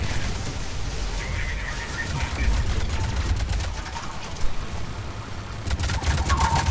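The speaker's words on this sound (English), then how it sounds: "Got an annoying turret thing." Enemy turret firing in the Mass Effect 3 multiplayer Firebase Hydra map against Cerberus, rapid bursts of gunfire rattling at mid distance over a busy battle din, with intermittent staccato volleys.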